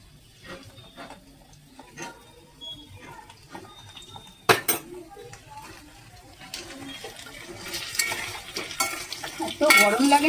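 A ground spice paste goes into a hot pan in a home kitchen and is stirred. A sharp clank is followed by growing sizzling and frying, with utensils scraping and clinking against the pan.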